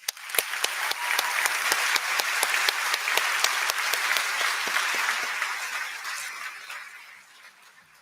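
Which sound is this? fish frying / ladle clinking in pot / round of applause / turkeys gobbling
round of applause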